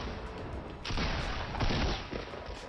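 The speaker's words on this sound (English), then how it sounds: "Other guy sniping behind there." Sniper and other gunfire in a Fortnite Battle Royale match, two sharp bursts of shots over a low game background, moderately loud and close.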